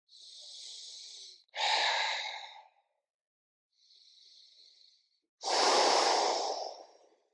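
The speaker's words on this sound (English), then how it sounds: "Same thing, 3 or 4 slow, deep breaths here." Four slow, deep breaths during a floor stretching exercise, lying on one side with the shoulder pressed toward the ground; audible inhales and exhales alternate clearly, two louder and fuller, one softer, with pauses between.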